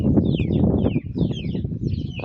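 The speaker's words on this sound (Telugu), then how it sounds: "కోళ్ళు బయటకు వచ్చినాయి" Chickens cluck as they come out of their coop, a close, busy run of short clucks and murmurs with higher squawks breaking in at intervals.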